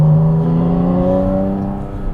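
A 2025 Porsche Spyder RS Weissach engine running close and loud, a steady rich drone with rising harmonic tones as the revs climb slightly and ease off.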